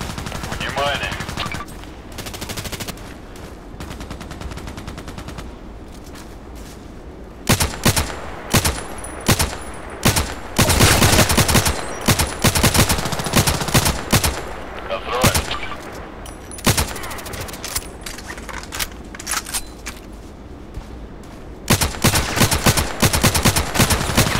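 Rapid bursts of KelTec RFB carbine gunfire in the online shooter Contract Wars on the Site map, loud repeated volleys with pauses between, amid other game gunfire.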